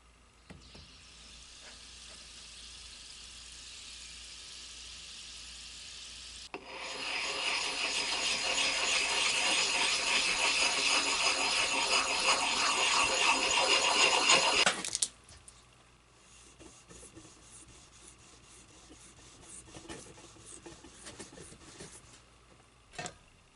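A Darwin hollow ground safety razor is honed on a fine 8000 grit whetstone in steady back-and-forth strokes, a grinding, rasping scrape that grows louder for several seconds and then gives way to faint quieter sounds.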